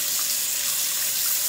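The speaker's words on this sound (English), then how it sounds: "I'm just rinsing off the knife right now that I've been using." Warm tap water runs steadily over a paint knife as it is rinsed in a sink, a constant close splashing hiss with no break and no talking.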